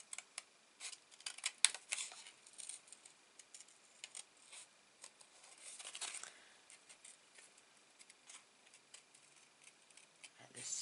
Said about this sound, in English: Let the scissors do the cutting.